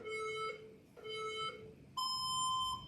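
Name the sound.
workout timer buzzer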